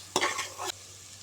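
Dry whole spices fry in a pan over a low gas flame, a short burst of loud scraping and stirring with crackling sizzle lasting about half a second, then a quieter hiss.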